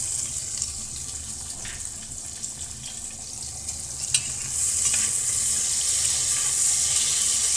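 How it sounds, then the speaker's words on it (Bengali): Onions frying in oil in a pan for khichuri, giving a steady soft sizzle that grows a little louder and brighter midway, with a few faint utensil clinks and no talking. "এখন পেঁয়াজগুলো ভেজে নেব।"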